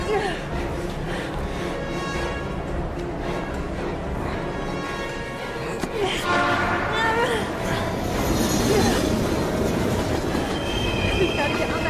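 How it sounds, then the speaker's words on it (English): A train in the video game Heavy Rain rumbles past loudly with wheels squealing and rattling carriages, the noise swelling and grinding continuously throughout, with voices mixed in. "We've gotta get on that train, Ethan."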